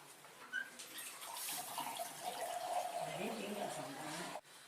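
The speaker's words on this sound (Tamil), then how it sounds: "இந்த வெள்ளத்தில் மூணு டம்ளர் தண்ணி விட்டாச்சு" Water runs and splashes steadily into a pan of jaggery for several seconds, a soft continuous pour that stops abruptly near the end.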